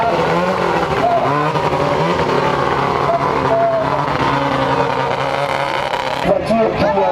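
A historic rally car, the zero car, pulls away at a rally event in Essaouira, Morocco, its loud engine roaring steadily and close, with a crowd and announcer voice underneath.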